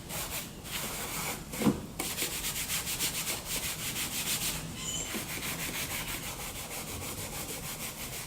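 Epoxy Fusion product being spread and rubbed by hand across a painted car surface to lift overspray, a steady close scraping-rub that continues evenly throughout with a brief louder knock near the start.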